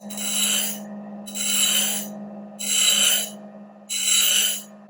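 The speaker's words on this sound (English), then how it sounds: "move it back and forth across the wheel to make sure that you get an even grind" Metal pressed against a spinning bench grinder wheel, moved back and forth for an even grind: four loud, harsh grinding bursts over the steady hum of the motor, close and alone.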